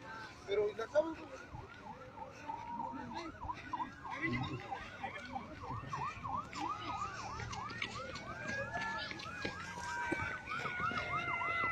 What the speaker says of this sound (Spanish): Se escuchan ambulancias, se escuchan sirenas.